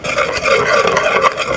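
Vanilla and butter being stirred into a banana pie filling, a brief close, soft scraping and swishing of a utensil through thick mixture with no voices.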